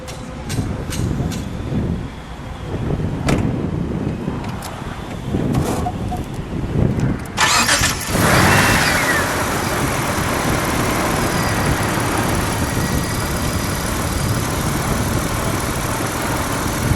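A 1992 Dodge Stealth R/T AWD with a twin-turbo V6 fires up with a sudden burst after a few clicks and voices, then settles into a steady, even idle with a continuous hum and whoosh, while people talk nearby.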